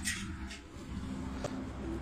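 Pigeons coo softly on a rooftop loft, a steady low murmur of overlapping calls running through the whole stretch, with a couple of brief higher chirps rising above it.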